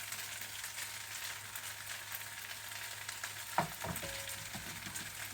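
Peanuts and scallions fry in a pan with a low, steady sizzle, broken by one sharp clack and a few soft scrapes as they are stirred.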